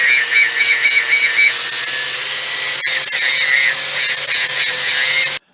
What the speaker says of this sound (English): Let me see if I can grind this down small enough where it'll fit in the hole.